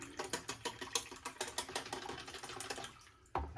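Running water from a tap splashes over a cartridge razor being rinsed, a rapid rhythmic patter of close splashes that stops briefly before a final burst of water.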